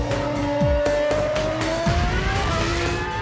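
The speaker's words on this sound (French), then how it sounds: "Schumacher enchaîne les tours de piste" Michael Schumacher's racing car lapping a circuit, a loud continuous engine wail that rises in pitch through the gears, with two quick downward sweeps of cars passing close by.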